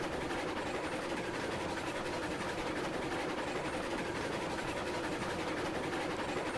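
A steam locomotive runs along the track in the Railroads Online video game, a steady, dense rumble and rush of rolling noise that holds even throughout, with no voices.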